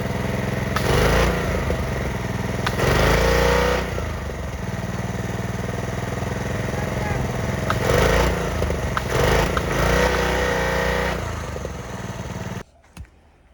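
An old 1964 Chrysler 300 engine rumbles at idle and is revved several times in short bursts, each swell rising and falling back before cutting off near the end.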